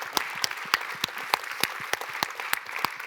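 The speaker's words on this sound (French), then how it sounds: "il mérite quand même un tonnerre d'applaudissements" Sparse, steady clapping from a small audience at a one-hour talk with the artist Abd Al Malik, individual hand claps landing in an even rhythm with no voices.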